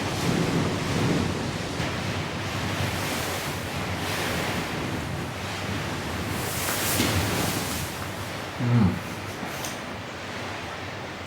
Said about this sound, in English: These are probably like 120 kilometer winds out there.